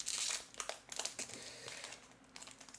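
A Yu-Gi-Oh booster box wrapper crinkles and crackles up close as it is carefully opened: a loud burst at the start, then a run of shorter crumpling rustles.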